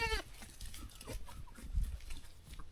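Baby goats bleating on a dairy farm at bottle-feeding time, with one loud wavering bleat up close at the start and then shuffling, thumps and fainter calls in a busy pen.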